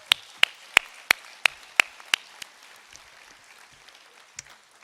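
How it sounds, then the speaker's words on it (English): Sparse applause at a university commencement ceremony: about eight sharp, evenly spaced claps up close, then thinning to scattered faint claps. "can you join me to give all of them a round of applause?"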